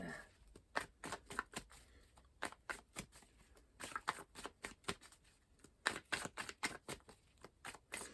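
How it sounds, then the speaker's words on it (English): A deck of tarot cards is shuffled and cut close up, making quiet, rapid papery riffles and slaps in irregular bursts with no talking. "I'm going to cut this deck"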